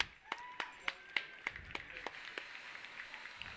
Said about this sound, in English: A round of applause for Tia Smoke.